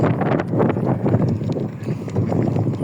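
Strong desert wind buffets the microphone while cycling beside a road, a loud, gusty rumble that swells and dips continuously.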